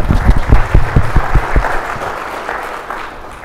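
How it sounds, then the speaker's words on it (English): Scattered applause from a conference audience at a startup pitch competition, a brief run of distinct close claps that soon thins into a softer, fading patter. "let's give a big round of applause for all the participants"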